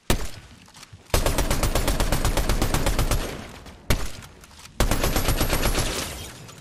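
Loud bursts of rapid automatic gunfire in Fortnite, two long sustained volleys broken by brief pauses, with a single sharp shot between them.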